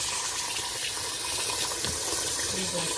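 Sticky rice being washed under running water at a kitchen sink, a steady close rush and splash of the tap with no pauses.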